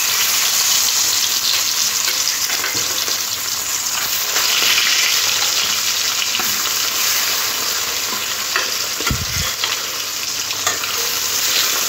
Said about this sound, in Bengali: এবার মাছগুলো তেলের মধ্যে দিয়ে ভেজে নেব।